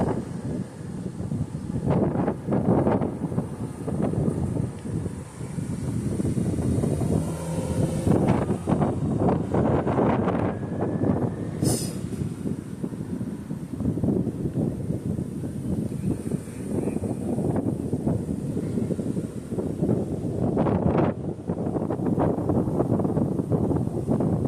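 Strong, gusty wind roars steadily around traffic lights at a high school crossing on a cloudy day, buffeting the microphone with rumbling surges and no speech.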